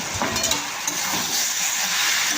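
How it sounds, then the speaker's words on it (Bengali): Mutton frying in a pan over a lowered gas flame, giving a steady, loud hiss and sizzle with a few faint clinks near the start. "যতক্ষণ না পর্যন্ত মাংসটা থেকে তেল ছাড়ে ততক্ষণ নাড়াচাড়া করে কষাতেই হবে"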